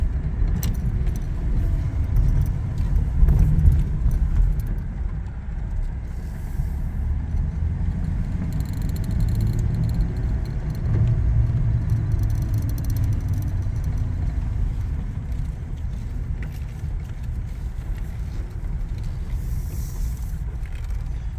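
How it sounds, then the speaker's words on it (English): A 1936 Packard V12 car drives along in third gear, its engine giving a steady, loud, low rumble that holds for the whole stretch with no talk. "even in third gear, it's pulling just fine. That's the Packard V12 for you."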